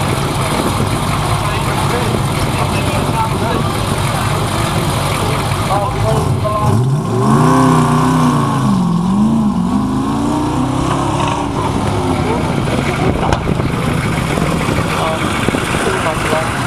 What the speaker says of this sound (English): Next up is a 1936 Morris 12-4, and as you can see, this is a highly modified vehicle of Terry Morgan